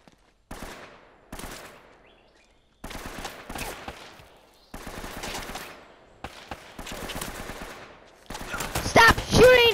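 Bursts of gunfire aimed at the player in Uncharted 3 come in separated volleys of rapid shots, growing louder and denser toward the end, with silent gaps between bursts.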